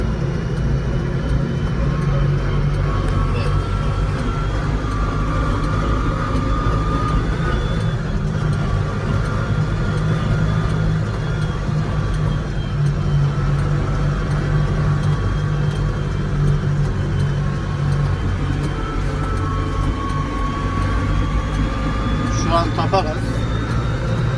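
A Landini 5-120 RS tractor running at its top road speed, a steady, loud engine drone with low rumble throughout, heard from inside or close by with a faint voice now and then.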